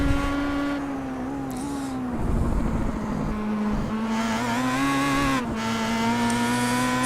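A Star Mazda race car engine in iRacing drones loudly and close, its steady high pitch rising and falling through gear changes and throttle lifts as the car laps Oran Park.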